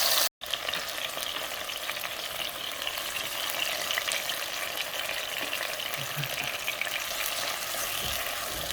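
Tomatoes, onion and garlic cook in a pan for a Mexican beef soup, giving a steady, dense frying sizzle that runs almost unbroken from start to finish, with a brief dropout near the start.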